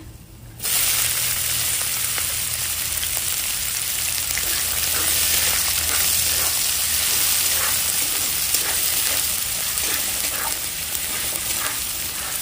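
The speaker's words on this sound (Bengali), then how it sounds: "তেল আর ঘি গরম হয়ে গেছে একটা তেজপাতা দেবো গরম মশলা দেবো এলাচ লবঙ্গ দারচিনি পেঁয়াজ" Bay leaf, cardamom, clove, cinnamon and onion hit hot oil and ghee, bursting into a loud, continuous close sizzle that starts suddenly and holds steady with faint crackles throughout.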